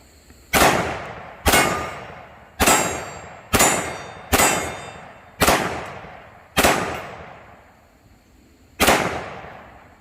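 SIG 1911 Fastback pistol in .357 SIG firing at steel targets from about 25 feet, eight sharp shots each followed by a ringing metallic clang, at roughly one-second intervals with a longer pause before the last.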